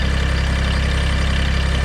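A GC2300 generator engine runs at a steady idle just after starting on a new battery, a loud continuous low throb with an even pulsing rhythm.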